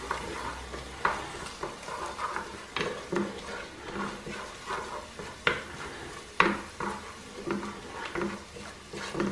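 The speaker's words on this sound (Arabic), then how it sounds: "غادي نخلط هذا الشيء قبل ما يبدا تحرق ليا العطريه" A spoon stirs tomato paste and spices in a cooking pot, scraping and knocking against the metal in an irregular rhythm with soft sizzling underneath; no one speaks.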